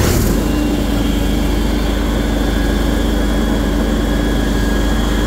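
A John Deere riding mower engine starts and runs, a loud, steady close-up drone with a low, buzzy throb that carries on evenly.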